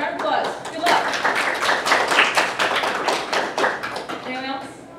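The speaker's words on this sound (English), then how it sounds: "All right, a round of applause, good luck." Small panel audience gives a brief, sparse round of claps with distinct individual hand strikes, while people talk over it throughout.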